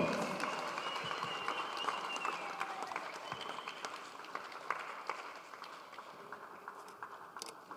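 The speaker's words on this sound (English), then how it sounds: "A round of applause, ladies and gentlemen." Sustained applause from a sizable crowd, steady and dense, gradually tapering off over several seconds.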